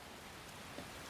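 Brief wash of steady rainfall in Skyrim after the Song of Storms shout, an even, faint hiss with no voices.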